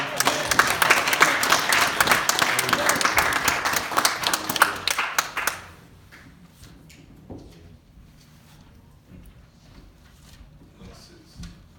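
A church congregation claps in enthusiastic applause for about five seconds, a dense, loud burst that stops abruptly. Afterwards there are quiet room sounds and faint speech.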